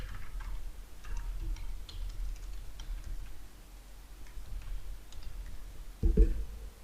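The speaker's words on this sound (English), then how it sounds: "Now we write anything using our keyboard." Light, scattered keystrokes on a computer keyboard tick along at a near-even pace, quiet and close, with a brief louder thump near the end.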